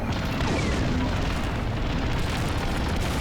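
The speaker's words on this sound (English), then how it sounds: "if I can get this proton torpedo off" A proton torpedo fired from a starfighter in the space combat game Star Wars: Squadrons sounds as a loud, sustained booming explosion with a dense rumble that fills the short moment close up.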